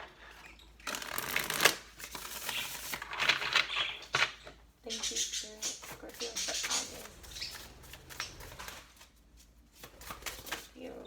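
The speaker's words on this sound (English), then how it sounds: "this will be our last shuffle" Tarot cards shuffled in bursts of crisp riffling, several separate rounds broken by short pauses, with a person speaking softly between and over them.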